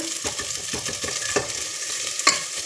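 Onions frying in oil in a pan for lentil sambar, a steady close sizzle broken by repeated scrapes and clinks of stirring, with a sharper knock near the end.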